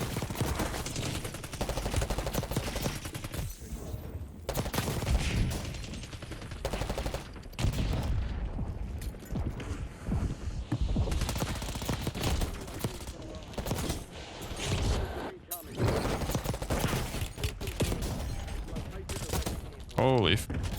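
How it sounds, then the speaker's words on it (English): Close-range hip-fire in the Warzone video game: loud, dense gunfire with rapid bursts and volleys that run almost nonstop, mixed with other game noise. "Always remember to utilize hip firing when fighting close range to best track your enemy."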